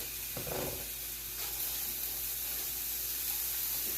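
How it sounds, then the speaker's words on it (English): Onions with chopped red, yellow and orange peppers and garlic sizzle in a stir-fry pan as a steady, soft hiss, with a brief louder burst of crackle early on; quiet and close, with no one speaking. "I'm going to throw in my onions."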